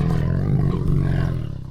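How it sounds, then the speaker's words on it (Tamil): A cartoon tiger lets out one loud, sustained roar that fills the whole moment and then tapers off. "புலியார் கத்துகிறார்."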